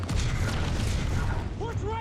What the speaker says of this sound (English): Because of all the explosions and all the smoke bombs and everything going off and the real gunfire, you feel like you're at war.